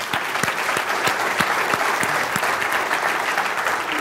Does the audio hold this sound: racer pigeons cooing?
no